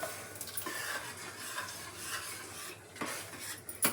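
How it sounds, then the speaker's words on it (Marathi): Black urad dal is poured into a fried green paste in a pan and stirred, giving a soft, close scraping and faint sizzle with a few spoon knocks, quiet and without talk. "आणि आता ही डाळ ओतून द्यायची यामध्ये"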